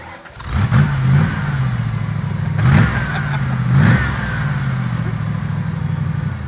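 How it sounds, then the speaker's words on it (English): A Ford car with a front-mounted muffler revs at a drag racing event, three sharp throttle blips rising and falling over a steady mid-pitched engine drone, fairly close and unusually muted, with no talking. "That's the quietest, like, front muffler mounted car I've ever heard in my life."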